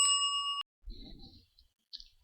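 A single bell rings out with a clear sustained ding for about half a second, then stops abruptly, leaving faint scattered low rustles and brief soft noises afterward.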